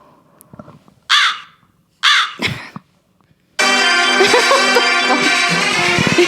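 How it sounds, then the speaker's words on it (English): A recorded crow caws three times, harsh and close with short gaps, and the last call runs straight into loud music that fills the rest of the clip. "play the crow"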